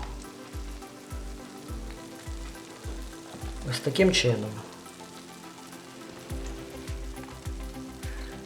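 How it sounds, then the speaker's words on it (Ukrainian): Potato sticks sizzle and crackle steadily in hot oil, with a brief voice speaking and a metallic clatter partway through. "тепер зараз будемо засмажувати другу половину"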